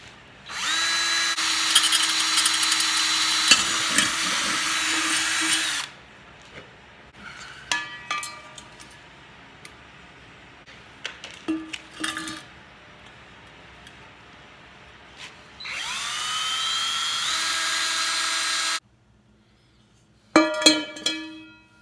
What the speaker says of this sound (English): I'm going to start by drilling holes in the pot